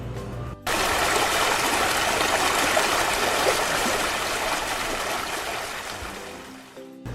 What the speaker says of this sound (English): And the sound from flowing streams.